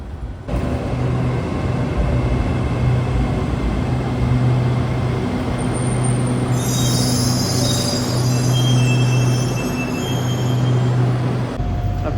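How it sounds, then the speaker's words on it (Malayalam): Interior of a moving metro train in Thailand: a continuous low rumble and hum, with a brief high-pitched squeal midway through. "അപ്പോൾ തലിങ് ചാനിലേക്കുള്ള ട്രെയിനിൽ കയറിയിരിക്കുകയാണ് ഇപ്പോൾ"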